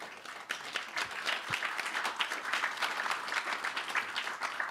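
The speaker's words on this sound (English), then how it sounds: "that round of applause is well-deserved" A symposium audience in London gives a sustained round of applause, dense even clapping that holds steady throughout at moderate distance.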